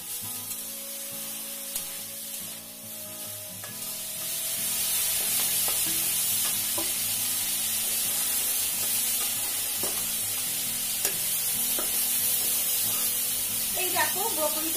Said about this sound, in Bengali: এই দেখো ব্রকলিটা আমার ভাজা হয়ে গেছে।